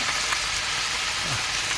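Cooking oil sizzling in a pan, a constant loud hiss and crackle that holds steady throughout without a pause.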